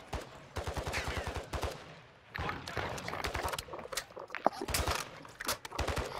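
Gunfire in a shooter video game crackles in repeated bursts, rapid strings of shots alternating with single cracks over roughly six seconds, with voices talking over the shooting.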